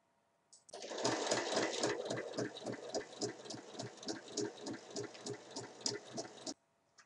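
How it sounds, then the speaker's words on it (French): A sewing machine runs steadily while topstitching a fabric band 1 mm from the edge, its needle thumping in a fast, even rhythm for about six seconds, close and clear, with no talking. "je vais venir faire une surpiqûre tout le long ici à 1 mm du bord"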